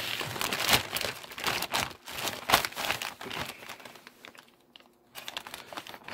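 Plastic crinkles and rustles close up in irregular bursts, with sharp scissor snips and tearing sounds as a plastic bag is cut open with scissors.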